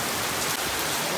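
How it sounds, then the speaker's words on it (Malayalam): Heavy rain pours down steadily in Krabi, Thailand, a dense, even hiss of drops close by with no voices. "ഇപ്പോൾ നമ്മൾ ജസ്റ്റ് എത്തിയപ്പോഴേക്ക് നല്ല മഴ"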